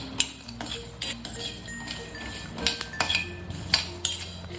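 Whole coriander seeds and cumin being dry roasted without oil in a pan, a spoon or spatula scraping and clinking against the metal in irregular close strokes over a quiet background.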